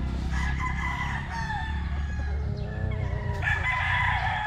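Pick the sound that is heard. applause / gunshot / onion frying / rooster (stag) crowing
rooster (stag) crowing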